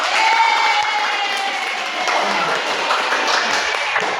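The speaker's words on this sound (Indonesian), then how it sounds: "Tepuk tangan dulu." Sustained applause and clapping from a crowd, steady and moderately loud, with a faint cheer near the start.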